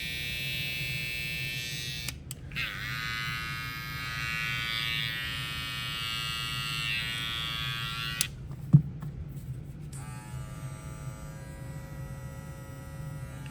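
A TPOB hair trimmer runs quietly with a steady electric buzz and hum throughout, its tone shifting a few times as it is handled, with a couple of soft clicks near the end.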